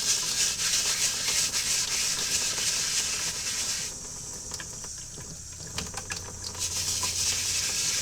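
A brush scrubs soap into the insole of a Nike Foamposite Pro Gray Wool shoe, producing steady, hissing rubbing strokes close up, which pause briefly midway before vigorous scrubbing resumes.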